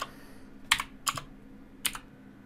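Typing on a computer keyboard comes through as three short bursts of crisp key clicks, close and clear over a faint steady hum, with no voices.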